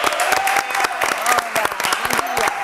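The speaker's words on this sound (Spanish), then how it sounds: "Así que con un fuerte aplauso." A studio audience on a local Chaco television show claps to welcome a guest, brisk individual claps clearly separable in a lively burst, with a voice speaking briefly over it.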